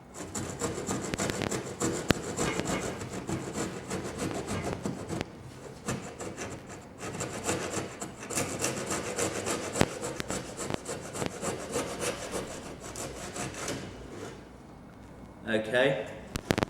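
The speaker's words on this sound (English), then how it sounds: "I'm going to use the tenon saw and then clean it up with a chisel" A tenon saw cuts through wood for a tee halving joint in steady back-and-forth rasping strokes, close and continuous, while a person talks over the sawing.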